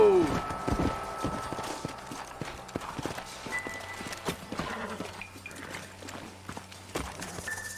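Horses in Red Dead Redemption clip-clop in a distinct, evenly spaced hoof rhythm, with a brief neigh or whinny at the start and faint ambient sound beneath.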